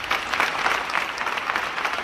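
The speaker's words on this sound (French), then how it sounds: "Des applaudissements nourris" Sustained, dense applause from a crowd gathered in the courtyard of a government ministry for a farewell and handover ceremony, steady clapping without pauses.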